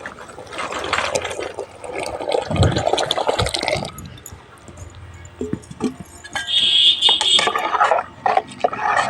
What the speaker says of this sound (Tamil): தண்ணி நல்லா கொதிச்சுட்டு இருக்குது இப்போ நம்ம இந்த மாவு கரைச்சி வச்ச மாவை இது கூட ஊற்றிடலாம்